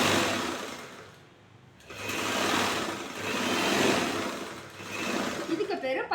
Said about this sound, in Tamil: ஓப்பன் பீஸ்க்கு மேலேயே தையல் போடுறோம்.